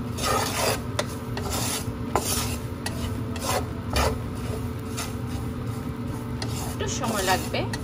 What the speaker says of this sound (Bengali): অনবরত নাড়তে থাকবেন।